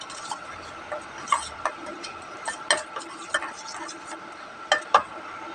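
A spoon scrapes and taps against a pan while kasuri methi is stirred into a masala, producing a series of sharp metallic clicks at an uneven rhythm over a faint background, close up, with no talk.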